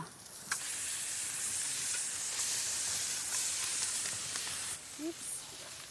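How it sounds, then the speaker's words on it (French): Trout sizzles and crackles continuously on a shovel over a fire, a steady close hiss with occasional pops, and a brief voice near the end. "Écoutez ça comme ça grésille."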